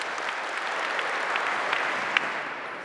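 An audience claps steadily for Spetsnaz veterans at a commando competition, a dense even wash of applause heard from some distance with a few sharper claps standing out.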